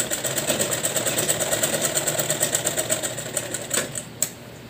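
A sewing machine runs steadily while stitching a Patiyala salwar, with a fast, even mechanical rattle close by that slows and stops near the end.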